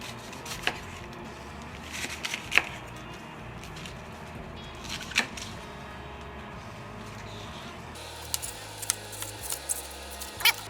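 A knife chops the thick stem parts of leaves on a cutting board for sukiyaki, with sharp isolated cuts spaced apart and then a quicker cluster of chops near the end over a steady background hum.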